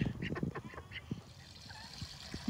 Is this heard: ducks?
yes